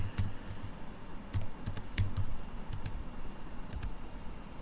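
Fast, uneven typing on a computer keyboard during a C++ programming lesson: sharp close key clicks in bursts over a quiet room.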